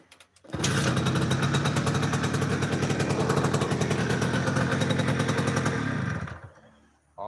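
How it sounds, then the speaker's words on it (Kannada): A motorcycle engine with a loud shotgun-style muffler, started with the key and revving hard close by for about six seconds with rapid popping pulses before cutting off abruptly. "ಕೀ ಸ್ವಿಚ್ ಆನ್ ಮಾಡಿದ ಕೂಡಲೇ ಸ್ಟಾರ್ಟ್ ಆಗ್ತದೆ."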